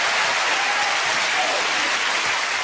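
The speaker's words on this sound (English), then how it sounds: "Give a big round of applause. The Simmons family." A dense, continuous wash of studio audience applause for a family of contestants on the television game show Family Fortunes fills the whole stretch at full strength.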